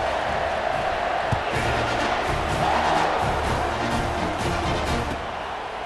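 A big College Football 25 stadium crowd roars and cheers after a touchdown, a sustained loud wash of voices that dips slightly near the end.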